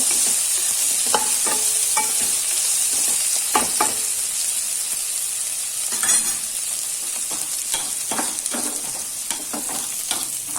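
Sesame seeds roast in a hot pan, giving a steady close sizzle scattered with sharp pops and splutters and occasional scrapes of stirring.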